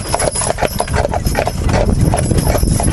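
Percheron draft horses' hooves clip-clopping on a road in a steady, close, loud rhythm, with rumbling wheels or harness noise beneath.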